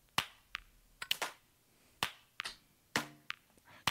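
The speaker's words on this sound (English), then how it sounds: "Keep accidentally moving my armrest." A chair armrest being moved by accident, giving about nine sharp, close clicks and knocks at irregular intervals, fairly quiet and with no talk.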